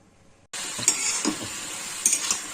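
Ginger-garlic paste for chicken chatpata hitting a hot pan and sizzling suddenly, followed by a steady frying hiss with a few scraping stirs close by.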